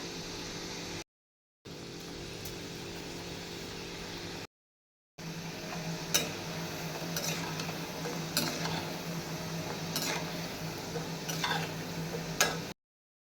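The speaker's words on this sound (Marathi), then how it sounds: "चला आता मस्तपैकी फ्राय करून घेऊया" Grated potatoes fry in a kadhai for a gram-flour potato sabzi, a steady low sizzle with sharp scraping and clinking strokes of a spoon against the pan, broken by two short silent gaps.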